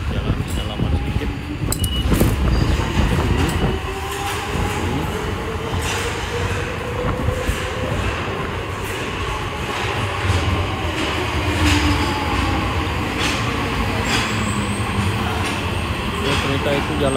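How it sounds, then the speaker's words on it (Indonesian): Red underground subway train in Japan running about 30 metres below a paved road, a steady rumbling roll with faint rail clatter and cabin hum throughout, close and continuous. "Kereta yang merah sudah jalan selama sedikit."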